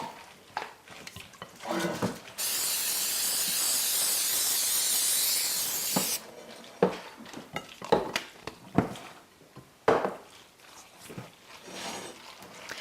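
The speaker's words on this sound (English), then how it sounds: "And I'm going to have you just spray that lightly." A steady hissing spray of aerosol cooking spray lasts about four seconds, close by, between scattered clinks and knocks of kitchenware.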